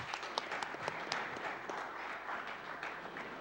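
A crowd at a live speedrunning charity event breaks into scattered applause, a fairly faint, steady patter of many hands clapping with a few sharper claps standing out.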